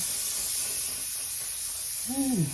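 Steady aerosol hairspray hissing continuously from start to finish, with a short voiced sound near the end.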